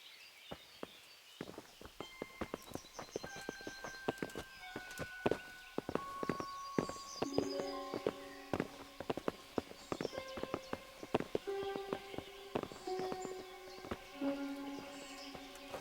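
Horses' hooves clip-clopping in Kingdom Come Deliverance, many close, irregular hoof strikes at walking pace alongside music.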